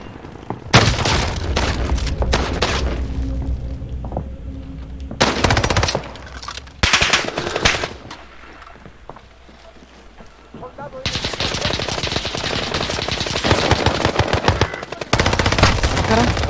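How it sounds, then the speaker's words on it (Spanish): Machine guns rattle in long, loud bursts during a shooter video game, mixed with booms and explosions. Quieter gaps break up the bursts, and voices talk over parts of the action. "¡Me disparan!"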